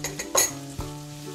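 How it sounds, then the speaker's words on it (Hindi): Fresh crushed garlic goes into hot butter over partly cooked red lentils for soup, giving a close, steady sizzle with a few scrapes and clinks of a spoon against the pot. "अब इसमें 1 टीस्पून लहसुन की ऐड कर देंगे, फ्रेश लहसुन कूट के डाल देना है।"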